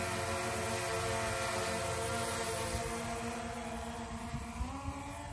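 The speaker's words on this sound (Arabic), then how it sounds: "مثل ما شايفين الدرون هلا رح تصير بعيدة" A camera drone flies over a snowy area, its steady, high-pitched motor whine and buzzing harmonics droning continuously and easing slightly as it moves off.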